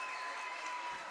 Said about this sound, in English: and this crowd gets rowdy